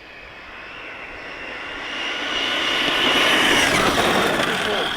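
ARRMA Mojave 6S BLX RC car with a 20T pinion on a speed run, a high electric whine that swells as it approaches and passes near the end, loud and steady, with outdoor background noise.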